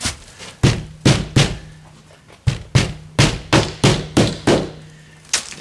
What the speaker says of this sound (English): You see a bad spot, the nail and the hammer.